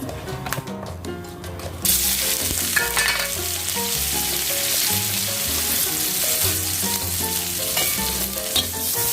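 Chayote shoots are stir-fried in hot oil with black pepper, garlic and chili, a loud, steady sizzle with clattering stirring that swells sharply after a quieter start and continues without talk.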